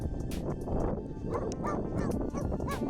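A puppy barks and whimpers up close, giving a run of short yips and whiny cries over several seconds with no voices.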